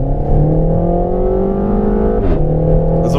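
Renault Mégane RS engine at full throttle on a race track, a steady loud harmonic drone with a brief gear-change dip and pops into the exhaust near the end, no talking.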